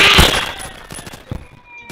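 Automatic gunfire in the Roblox game Phantom Forces comes as a loud burst at the start, followed by fainter scattered shots.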